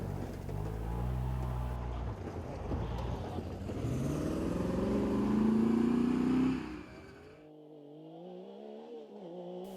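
A Lamborghini competing at the Tiverton hillclimb in Class 5, its engine rising in pitch as it accelerates up the course, growing louder before cutting away and settling to a lower drone, with no talk.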